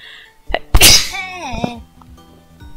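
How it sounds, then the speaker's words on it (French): A single sharp, loud human sneeze bursting out after a short breath intake, followed by a brief trailing vocal sound, with no other talking. "J'ai éternué."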